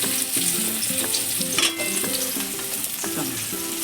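Chopped onion dropped into hot oil, already used to fry fish, with dried red chilies and black cumin for pabda fish curry: a bright, steady sizzle and crackle with stirring, under continuous background music.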